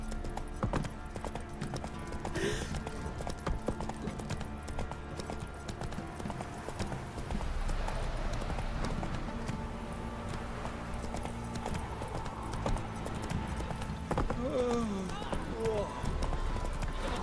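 Roach, the horse in The Witcher 3, gallops with a rapid, continuous clip-clop of hooves across the whole stretch, joined by a brief whinny, while game voices talk over it.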